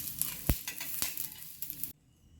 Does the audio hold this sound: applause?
no